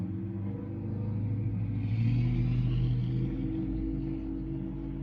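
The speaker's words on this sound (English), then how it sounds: "I'm always nervous about traffic, it being heard on camera" A road vehicle rumbles past outside, its low engine drone swelling toward the middle and then fading, heard alone at moderate volume.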